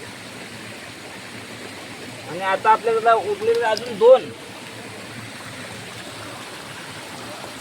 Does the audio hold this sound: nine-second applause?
no